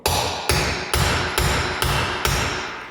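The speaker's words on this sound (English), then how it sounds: "You're not gonna smack the crap out of it, so you're gonna tap it in" Six evenly spaced metallic hammer taps driving a bearing race onto a Jeep Wrangler TJ Dana 30 axle, close and loud, each ringing briefly before the next strike.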